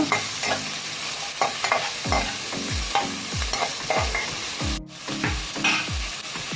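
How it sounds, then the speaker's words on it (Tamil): Dried red and green chillies fry loudly in hot oil while a spatula scrapes the pan in a steady rhythm of regular strokes over a constant sizzle. "இது கூட காஞ்ச மிளகா 5 போட்டுக்குவோம், 3 பச்சை மிளகாவும் போட்டுக்குவோம். போட்டு கிண்டி விடணும் நல்லா."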